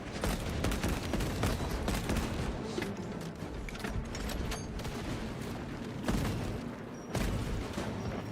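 Relentless automatic fire and heavy thudding blasts fill a battle in Warhammer 40,000: Space Marine 2. Shots overlap in a dense, loud barrage that barely lets up.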